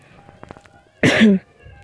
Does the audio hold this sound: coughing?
yes